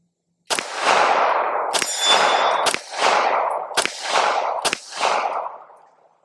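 Five loud, sharp rifle shots from a Bear Creek Arsenal BC-101 firing 147-grain flat-nose rounds, spaced about a second apart, each cracking close by and trailing off in a long outdoor echo, no talking.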